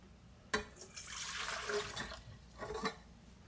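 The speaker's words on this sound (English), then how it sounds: "what you'll start out with is your 2 cups of water" Two cups of water are poured into a mixing bowl for cake batter, a faint, sharp splash at the start followed by a steady trickle and a second brief splash near the end, with no talking.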